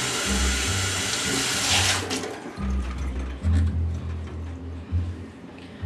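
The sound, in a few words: washing hands under a running tap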